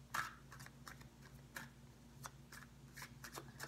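Tarot cards being shuffled and drawn, close and soft, with irregular quick riffling flicks and light slaps spread throughout, no talking.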